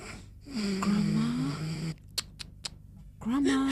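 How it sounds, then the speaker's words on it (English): A woman snores in a telenovela scene, with two long, loud, wheezy drawn-out snores close by, separated by a brief pause filled with small clicks and shuffles. "She's snoring and all."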